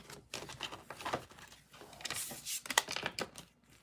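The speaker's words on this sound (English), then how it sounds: "One full shuffle." A deck of cards gets one full shuffle, producing a run of quick, close papery riffles and flutters with brief pauses between bursts, fairly quiet and heard on its own.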